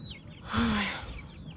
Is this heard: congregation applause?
no